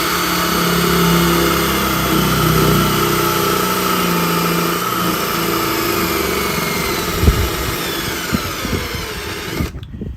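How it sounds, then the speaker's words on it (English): A cordless power drill boring a half-inch hole, whirring steadily for several seconds at close range, its motor droning loud and even before stopping abruptly. "Drill a 1/2 inch hole here."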